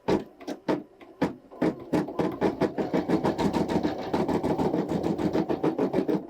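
A Janome embroidery machine stitches up close, starting with a few spaced mechanical thumps and then settling into a fast, steady rhythmic clatter.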